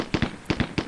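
Single semi-auto gunshots in the 1995 MS-DOS police game Police Quest SWAT: sharp, close cracks in quick pairs, three pairs within a second.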